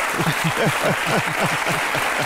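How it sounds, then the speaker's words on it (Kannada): Loud studio audience applause on a Kannada courtroom-style TV talk show, dense sustained clapping from many hands filling the whole stretch without any voice. "ರಜತ್ ಅವರ ರಿಸರ್ಚ್ಗೆ ಜೋರಾದ ಚಪ್ಪಾಳೆ ಬರಲಿ"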